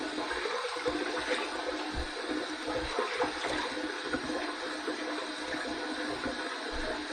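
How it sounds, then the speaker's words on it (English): Water runs steadily from a tap to wet a head before a head shave, a constant close splashing hiss that continues without a break. "Let's wet my head, and we'll get to the shave."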